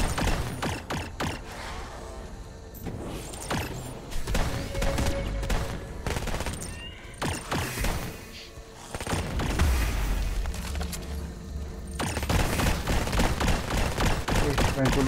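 Shotgun fire from a heavy trooper in the sci-fi tactical game Red Solstice 2, a long dense barrage of loud blasts and explosions with whirring mechanical noise, mixed under a speaking voice throughout.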